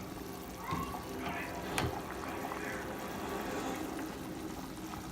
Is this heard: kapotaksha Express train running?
no